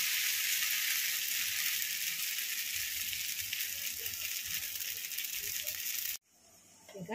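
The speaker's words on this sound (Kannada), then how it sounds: "ಈಗ ಕರಿ ಮಾಡ್ತಾ ಇದ್ದೀನಿ." Dosa batter fries in ghee in a pan with a loud, steady hiss and crackle close by, fading slightly over several seconds before stopping abruptly, followed by faint handling noises.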